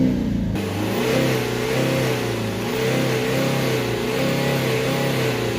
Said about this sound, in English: So I'm just we'll accelerate the car up a bit.